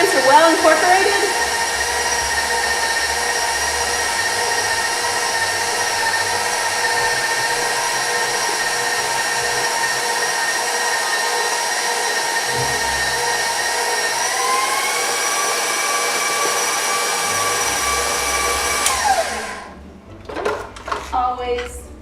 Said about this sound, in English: Always turn off your mixer and lower your bowl or lift your paddle, whichever way your mixer works